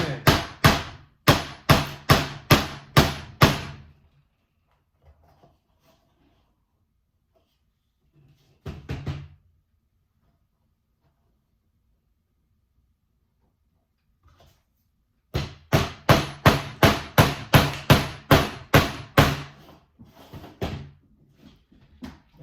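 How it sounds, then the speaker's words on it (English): Nails hammered into wood, two runs of rapid, evenly spaced loud strikes with a short burst of blows between them and quiet pauses. "we're going to nail those in"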